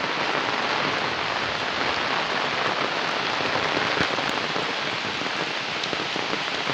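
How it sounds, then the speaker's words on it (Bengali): Heavy, steady rain pours down in a village with strong wind, a dense unbroken wash of droplets drumming on surfaces close by, with no voices over it. "বাতাস হচ্ছে, অনেক বাতাস আর বৃষ্টি"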